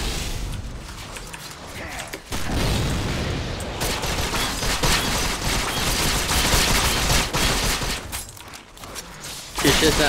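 Gunfire from the Vindictus action game, with continuous rapid shooting and mechanical clatter at an enemy, a dense, loud barrage that drops out briefly before resuming.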